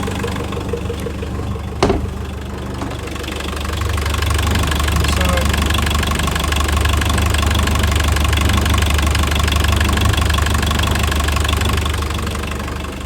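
A Bacchus 44DS boat's diesel engine runs steadily at idle, a low continuous rumble with a knocking texture that swells slightly after a brief bump, with faint talk nearby.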